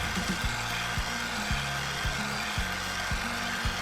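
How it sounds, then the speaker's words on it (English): Electric mixer whipping seven minute frosting in a home kitchen, a steady close buzzing motor whir with a rhythmic pulsing as the beaters cycle, continuous and moderately loud with no talking. "I'll turn the mixer up more."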